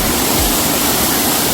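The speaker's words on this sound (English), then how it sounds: "Oh, we literally went under the fucking waterfall." A roaring waterfall pours from very close by, a loud and steady broadband rush of falling water that fills the whole moment with no pause and no voices.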